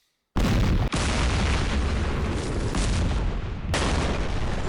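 Artillery direct fire in the WWII wargame Campaign Series Rising Sun, set at Kwajalein, begins abruptly after brief silence with a loud boom. A dense, sustained rumbling barrage follows with a sharp cut partway through.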